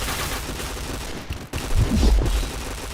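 Rapid gunfire bursts in a shooter video game as headshots land, dense, loud crackling volleys that swell and grow heavier partway through.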